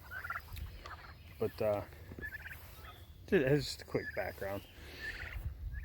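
Young farmyard turkeys gobble in several short, rattling bursts near the microphone, with a quiet voice speaking briefly over steady background noise.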